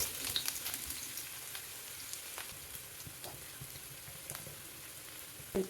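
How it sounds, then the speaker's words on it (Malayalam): Onion frying in coconut oil in a pan sizzles and crackles steadily at low volume, with occasional faint stirring taps and no talk. "ഇതിൽ നിന്ന് കുറച്ച് സവാള ആദ്യം ഒന്ന് പൊരിച്ചെടുക്കാം"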